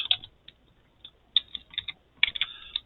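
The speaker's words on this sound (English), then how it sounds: "let me just type that in" Keys clacking on a computer keyboard, close and clear, in short irregular bursts of taps with small pauses between, no talking.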